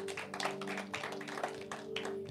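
A church congregation at a Sunday worship service claps together, a quiet, fairly dense patter of hands heard from a distance over a sustained background tone.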